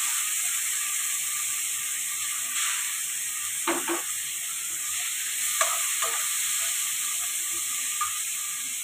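Tomato and ginger frying on a very low flame in a pan with two dried red chillies, giving a steady soft sizzle with a few faint clinks and scrapes; no one talks.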